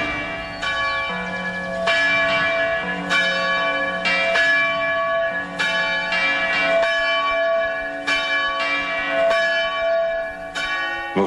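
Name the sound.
church bells ringing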